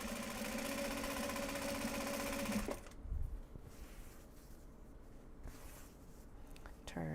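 A sewing machine stitching project bags from Japanese fabric runs steadily and loudly with a fast mechanical whir for a few seconds, then stops, leaving quieter handling noises.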